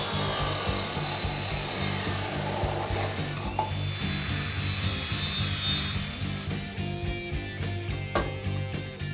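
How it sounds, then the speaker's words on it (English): A saw cuts an angle into a steel roll bar main hoop with a loud, rough, rasping buzz that rises and falls, then breaks into a series of shorter cutting strokes and pauses near the end. "We're just cutting an angle on the bottom of it to match the angle of our frame."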